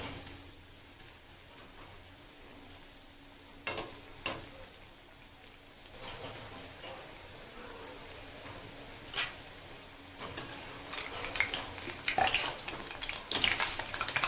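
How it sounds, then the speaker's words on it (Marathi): Round gol bhaji pakoda fry in hot oil over a low flame, a soft steady sizzle with occasional stirring clinks and light bubbling that grows busier toward the end, without talking. "आता आपल्याला ही सुद्धा मस्तपैकी तळून घ्यायची आहे मंद गॅसवरच"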